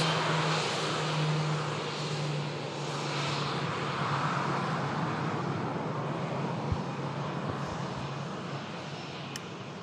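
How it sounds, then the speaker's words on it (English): An Emirates Airbus A380 during pushback, a steady mid-distance engine drone with a low tonal hum that fades slightly, joined near the end by a few faint clicks. "On this Emirates A380, just see its nose coming back into shot now to complete the pushback hops."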